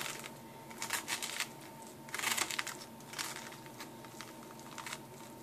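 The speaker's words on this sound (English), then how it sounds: "So I'm just going to take a spoon and scoop those out the best I can." A spoon scrapes pulp and seeds out of a halved spaghetti squash, producing soft, close, irregular scratchy scooping bursts over a quiet background.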